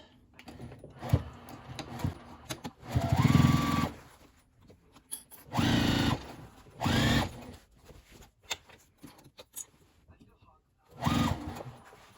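A home sewing machine stitching the seams of a fabric memory bag, running in several steady motor bursts of a second or two with pauses between, close by while someone talks over and between the runs.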